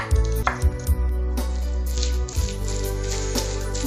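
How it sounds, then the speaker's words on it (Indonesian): Shallots for Betawi-style pecak lele being coarsely pounded with a mortar and pestle make loud, close, repeated thuds and grinding knocks in an irregular rhythm, with steady clatter continuing throughout. "Nyemplung semua bawangnya ya. Diulek-ulek kasar aja ya."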